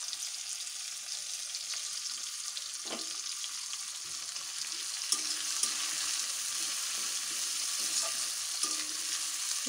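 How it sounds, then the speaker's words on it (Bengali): Onions frying in a pan for a home-style chicken dish, a steady close sizzle with crackling and occasional stirring scrapes, continuous throughout with no talking. "পেঁয়াজটা একটু লাল লাল করে ভেজে নেবো।"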